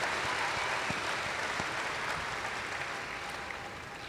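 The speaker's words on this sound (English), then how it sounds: "Let's give one more big round of applause for our appreciation for this year's champions." A crowd at the World Dairy Expo 2013 supreme champion program claps steadily for the champions. The applause is dense and sustained, easing off slightly by the end.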